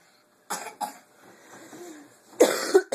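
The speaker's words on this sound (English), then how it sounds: "Yeah, we all got that cough" Several coughs burst out in short clusters, one pair early and another harsher pair later, close and loud against near silence.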